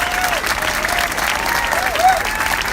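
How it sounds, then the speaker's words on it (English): A crowd applauds at a community solidarity gathering at Temple Sholom in Vancouver, loud sustained clapping with a few faint vocal sounds and cheers mixed in, filling the whole stretch evenly. "Let's give them a round of applause."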